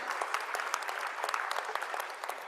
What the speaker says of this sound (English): I'd love a round of applause for him in his absence.